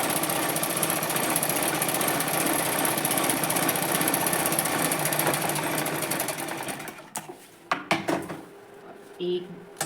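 A sewing machine stitches fabric for a salwar with a steady, close, rattling run for about seven seconds, then stops, followed by a few sharp knocks and clatters of handling.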